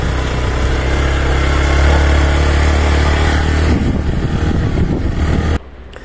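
A motorcycle engine roars loud and close as the bike strains up a rocky hill in the heat. The engine holds a heavy, sustained revving drone, then cuts sharply to a quieter idle near the end.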